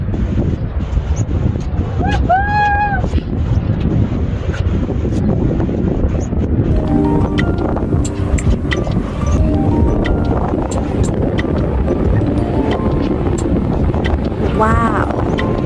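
Strong wind at a beach by a wind farm buffets the microphone in a steady roar, with a voice speaking over it and brief higher tonal sounds rising now and then.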